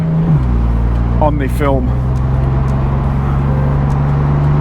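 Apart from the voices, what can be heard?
BMW M4 Competition Convertible engine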